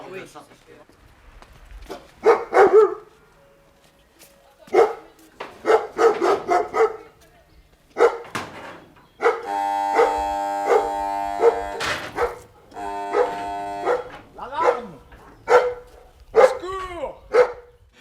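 Dogs bark and scuffle in a fight, giving repeated close, sharp barks and yelps in bursts, while people talk over and between them.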